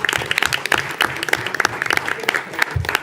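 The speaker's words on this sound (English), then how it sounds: "Can we give Elsie a round of applause for her performance and the video?" Applause from attendees at a school board of education meeting, a dense run of clapping lasting a few seconds with some voices mixed in.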